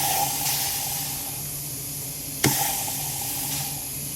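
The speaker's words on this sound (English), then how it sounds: "I'm going to see if I can't engage the transmission gears through compressed air" Compressed air hisses steadily into the passages of a 4R100 automatic transmission on the bench to apply its gears, one loud sharp burst near the middle, with no talk.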